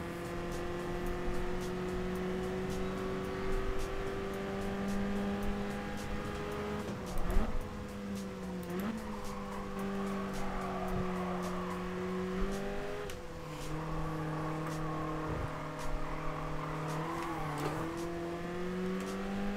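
A race car in Gran Turismo Sport, loud and close, its engine tone climbing and dropping through repeated gear shifts and throttle lifts around corners, with steady revving throughout.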